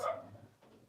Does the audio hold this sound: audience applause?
no